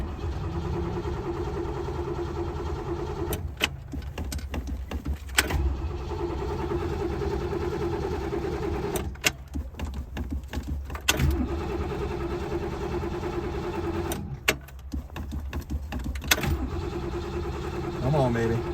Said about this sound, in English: I'm going to go ahead and start it up now.